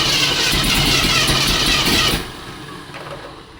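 A 1972 AMC Ambassador's engine runs steadily while warming up, a loud close rumble that drops abruptly to a quieter idle about two seconds in.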